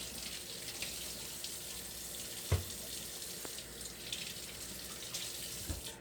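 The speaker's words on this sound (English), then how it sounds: "And then we'll wash off the tomatoes just to get the dust off of them." Tap water runs steadily from a faucet into a sink while green tomatoes are rinsed, a continuous close hiss with a couple of brief clunks and splashes from handling.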